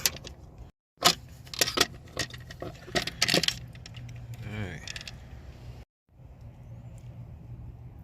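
Hose clamp being worked off under the hood of a 2015 Dodge Grand Caravan 3.6 SXT, giving metallic clicks, scrapes and a tool's ratcheting clatter, close and uneven with short gaps.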